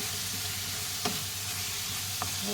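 Freekeh hits a hot pan and sizzles in a steady, dense hiss, with two faint clinks of a utensil and no voices.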